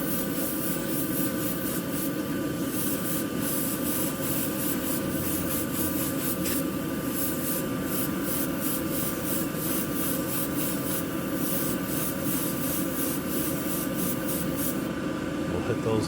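An airbrush hisses steadily, spraying white paint onto the rims of a model M100 truck, an even, continuous close-up spray with faint rubbing and ticking at the edges.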